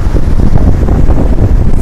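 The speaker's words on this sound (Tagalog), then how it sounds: "Sana nilililig ako ang lakas ng hangin." Strong typhoon wind roars by the dark, churning sea, buffeting the microphone in a loud, continuous rush.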